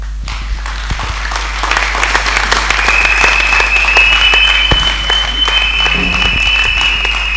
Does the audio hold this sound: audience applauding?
yes